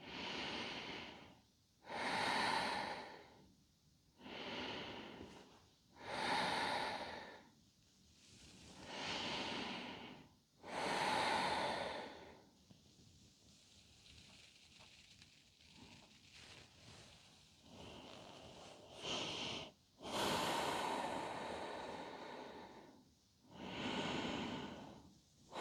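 Slow, deep breaths during a yoga stretch for lower back pain, a long series of soft, airy inhales and exhales at a steady, unhurried pace, close and quiet with no talking.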